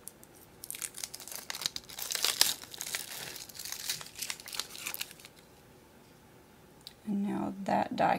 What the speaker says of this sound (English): press that adhesive down to the die and get all the webbing off